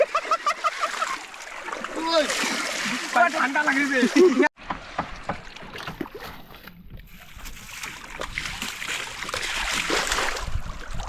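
Water splashing and sloshing over a bike being washed, bursts of splatter close by under excited talk and shouting, with a brief pause before steadier spraying noise resumes.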